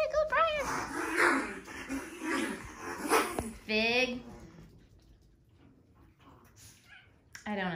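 Excited dogs whimpering, yipping and barking indoors in a playroom, high whines and short yelps mixed with a person speaking to them, close and lively.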